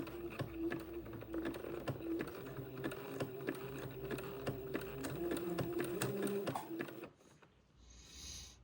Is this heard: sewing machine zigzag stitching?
yes